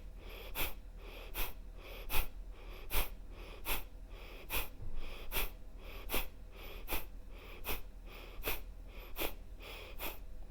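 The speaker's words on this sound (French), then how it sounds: "Expirez par le nez." Forceful nasal exhalations from yoga breathing repeat in a steady rhythm, about fourteen sharp close puffs through the nose with quieter passive inhales between them.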